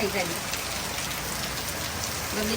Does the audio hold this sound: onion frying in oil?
no